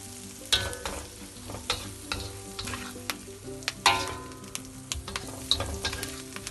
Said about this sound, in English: Okay, now I fry, but I would like to have a drop of dark sauce.